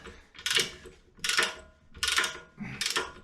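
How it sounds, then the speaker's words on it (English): A torque wrench ratcheting on a bolt on a BMW X3 (F25) during CV boot work, four distinct bursts of clicking ratchet strokes in an even rhythm, close and clear with no talking. "We're going to try and get 100 Newton meters of torque on this last bolt"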